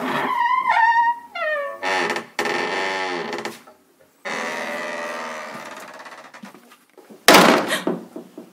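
A door opens with a sudden, sharp burst of noise near the end, following several seconds of mixed, uneven sounds.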